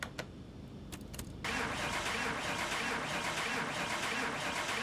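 Car engine in Car Mechanic Simulator 2021 being started: a few faint clicks, then the engine catches suddenly and settles into a steady, loud running drone that continues to the end.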